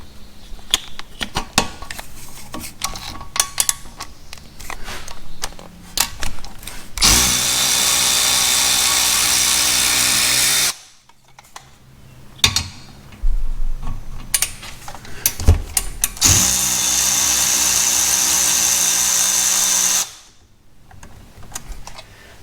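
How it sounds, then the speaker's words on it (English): A power tool spins out the 7mm Allen caliper bolts during a brake job on a 2013-2019 Ford Escape, with two long, loud whirring bursts separated by a short pause and quieter clicks and handling noises around them. "there is a 7mm Allen bolt that you have to remove to pop the caliper off."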